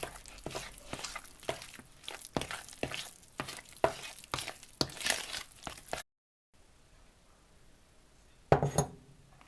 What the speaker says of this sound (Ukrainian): І тепер замішуємо тісто